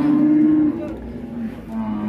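A young male calf moos in a drawn-out, low bellow at close range, the call dipping and rising across about two seconds with a farm-market background.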